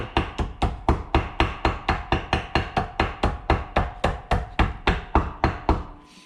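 A ball peen hammer striking metal in a fast, even series of about twenty-five sharp, loud, close blows, each ringing briefly before the next.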